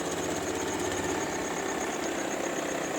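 Honda Vario scooter engine running with a rough, uneven sputter that hesitates and stumbles, steady and close for the whole stretch with no voices.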